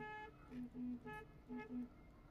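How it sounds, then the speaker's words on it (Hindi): A 1989 Hindustan Contessa car horn toots in short bursts, two quick honks then a pause and two more, fairly faint and close. "ये हॉर्न यहाँ पर दिया हुआ है"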